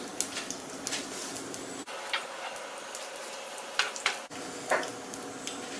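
Whole garam masala spices, bay leaf, dried red chillies, cumin, cloves and black cardamom, frying in hot oil in a pan for peas pulao, giving soft crackling ticks and pops over a steady sizzle, with a couple of brief knocks, no talking.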